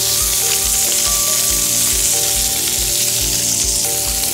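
Beef sizzles loudly and steadily in a hot frying pan on an Electrolux induction cooktop, a constant crackling hiss, close up, with a faint rhythmic low thumping underneath.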